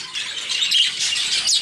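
A large bird squawks in a harsh, raspy run of calls, loud and close, during a summer check on breeding pairs.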